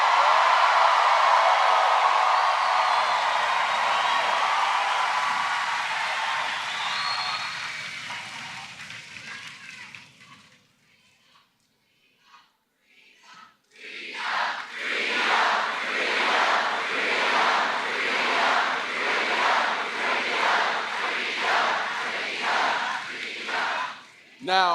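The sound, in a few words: crowd clapping at a political rally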